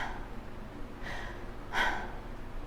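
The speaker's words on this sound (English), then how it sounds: "Notice where I end up breathing when I breathe through my mouth." Slow breathing through the mouth, heard as two soft, airy breaths close to the listener, the second slightly stronger, over a low steady background hum.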